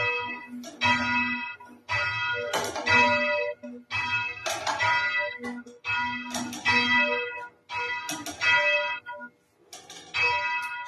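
Church bell at St Nicholas Church in Carrickfergus being rung down, loud and close, its strikes coming in repeated bursts that ring on with a harmonic hum, nearly continuous over eleven seconds.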